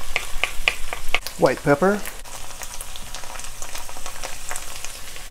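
Beef stir-fried in a wok alongside bitter melon, giving a steady crackling sizzle with scraping stir sounds, under brief talk.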